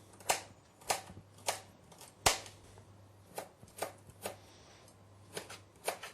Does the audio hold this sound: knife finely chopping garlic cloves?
yes